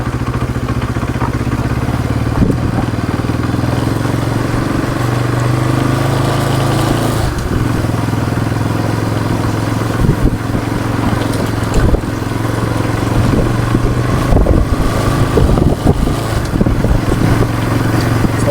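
A motorbike ridden at night along a dark road near Karikattukuppam; its engine drones steadily and loudly up close for the whole stretch, with slight rises and dips in pitch and no talking.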